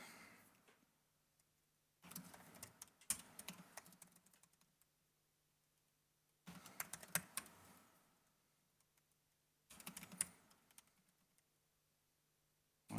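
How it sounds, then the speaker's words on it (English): Bursts of typing on a computer keyboard, quick clustered keystrokes separated by quiet pauses, fairly close and soft. "My typing is terrible up there."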